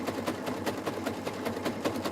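A sewing machine stitches a jelly roll rug strip in a fast, regular chattering rhythm of needle strokes, close and steady with no voices.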